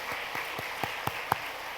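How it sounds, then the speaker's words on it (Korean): About six soft, evenly spaced hand claps from a church congregation, faint and distant, with no voices over them. "아멘. 박수해 주시기 바랍니다."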